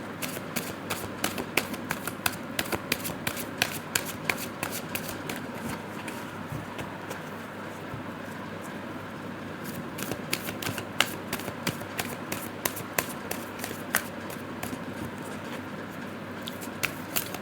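Large tarot cards are shuffled by hand in a steady run of soft papery riffles and slaps that carries on throughout at moderate level, with no talking.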